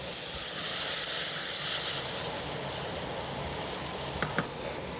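Zucchini noodles fry in a hot pan with a loud, steady sizzle and hiss, broken near the end by a few light clicks of stirring, and no one speaks.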